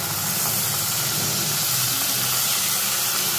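Water poured into a hot pan of paneer and mixed vegetable curry hisses and sizzles steadily, a loud, continuous broadband steam hiss throughout with no speech.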